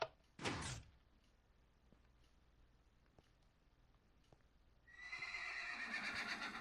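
A leashed horse in a survival-server video game gives a short, loud whinny near the start, then faint clicks and quiet, and finally a sustained noisy burst that fits a longer neigh.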